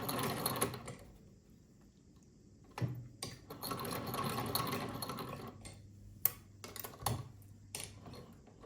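A vintage sewing machine stitches an inside leg seam, running in several bursts of steady mechanical whirring with short pauses between, near and fairly quiet with no talk.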